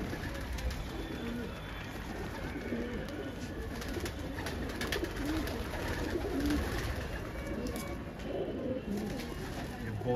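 Many pigeons perched overhead, kept for Patiala pigeon fights, fill the air with a steady, dense layer of low cooing that carries on without pause throughout. Faint voices sit underneath.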